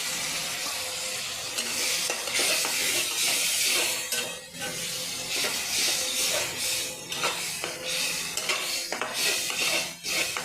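Red masala spices frying in oil as tomato paste is stirred in for a potato and green pea curry, a bright hissing sizzle broken by repeated spoon scrapes and clinks against the pan, close up.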